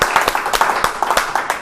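Church congregation clapping in a quick, steady rhythm with some cheering mixed in. The claps are sharp and close, with a continuous crowd wash underneath.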